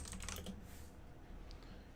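Quick clicking keystrokes on a computer keyboard, a short burst of typing at the start that trails off into a few scattered taps, soft and close, with no talking.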